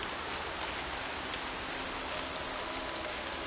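Steady, dense rain in the video game Horizon Zero Dawn hisses evenly throughout, a constant wash of falling drops with no voices or other sounds.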